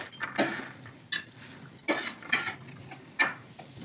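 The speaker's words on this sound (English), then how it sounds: "you want all of the leaves to be really coated with the dressing, just like that" Baby kale leaves are tossed in a bowl with Caesar dressing, producing a few close, separate bursts of wet rustling and light utensil clinks at an uneven pace, with no voices.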